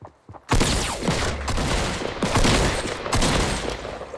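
Rapid bursts of gunfire in Fortnite, loud and close, with repeated volleys crackling over about four seconds and brief gaps between them.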